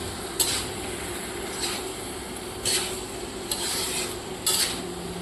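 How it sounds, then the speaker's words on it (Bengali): Boiled and fried cauliflower is sautéed in spice paste in a pan with the oil separating. A low sizzle runs beneath about five close, scraping stirring strokes spaced roughly a second apart. "এরপর আমি ভেজে রাখা ফুলকপিটাকে এর মধ্যে অ্যাড করব। এবার এটাকে একটুখানি কিছুক্ষণ কষিয়ে নেব।"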